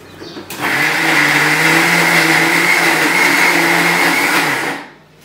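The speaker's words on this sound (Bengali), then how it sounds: "এই কটা জিনিস এবার মিক্সিতে পেস্ট করে নেব" A mixer grinder blending garlic, ginger, green chillies and coriander leaves into paste whirs up after a short pause, holds a loud steady high-pitched drone for about four seconds, then winds down and stops.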